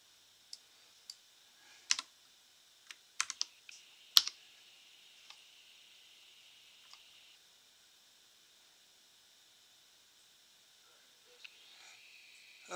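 URL being typed on a computer keyboard into a browser: sparse, sharp clicks and a few quick clustered keystrokes early on, then mostly quiet hiss with a faint click near the end.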